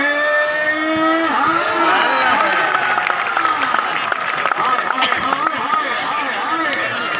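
Crowd clapping and cheering at a stadium match in Dhap Stadium, Dera Ismail Khan, heard under an amplified announcer's voice with loud whistles and shouts cutting through the steady applause.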